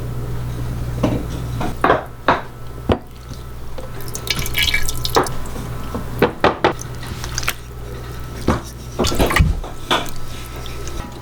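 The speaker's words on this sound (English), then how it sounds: "I like to just hang it and let it drip." Whey drips from goat cheese curds hung in cheesecloth at an off-grid Alaska kitchen, irregular close drops landing one by one over a quiet background with a low steady hum.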